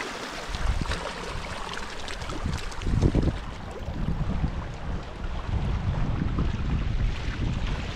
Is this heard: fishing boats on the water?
yes